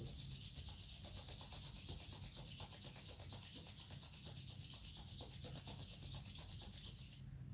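Both palms rub together briskly during a breathing exercise, making a soft, continuous swishing friction over a steady low hiss, faint and close, with no talking.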